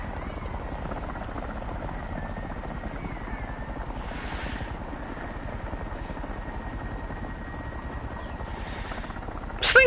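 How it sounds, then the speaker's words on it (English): Huey helicopter in War Thunder flies steadily, its rotor thumping in a continuous low chop with a whining turbine tone, a few faint bursts of other game sounds over it. "It's a really decent helicopter."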